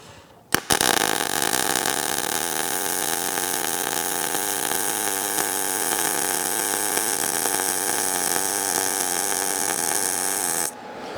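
MIG welding bead laid at normal travel speed, a steady loud crackling hiss sustained close-up for about ten seconds, starting abruptly and cutting off near the end.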